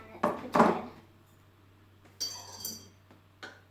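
A metal spoon clinks against a pot while coffee goes into hot water, a few light taps followed by brighter scraping clinks, quiet and close with a steady low hum underneath.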